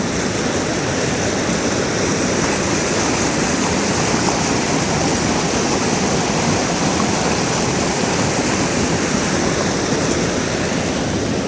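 Meltwater from melting snow pours like a waterfall outdoors, a loud, steady, unbroken rush of water with no voices over it.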